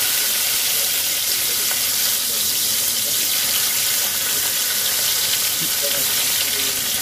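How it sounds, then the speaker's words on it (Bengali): Okra frying in plenty of mustard oil, a loud, continuous crackling sizzle heard close up throughout with no break. "ভেন্ডিগুলোকে আমি লাল লাল করে ভেজে নেব।"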